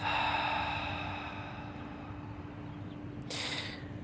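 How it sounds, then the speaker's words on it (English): A slow, deep breath at the close of a power yoga session, drawn in through the nose and released out through the mouth as a soft, steady airy hiss with a brief louder rush near the end, no talk. "a nice deep inhale through the nose, and a slow breath out the mouth"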